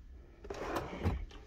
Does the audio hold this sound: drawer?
yes